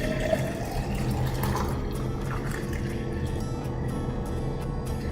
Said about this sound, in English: pour in your green juice.